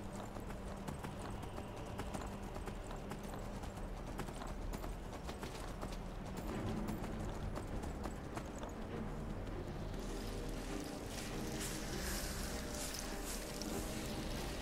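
Horse hooves in the video game Skyrim, a steady clip-clop of hoofbeats carrying on without a break, with a brighter rushing noise coming in near the end.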